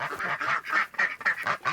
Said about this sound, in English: They've got guineas, quail, chickens, and ducks.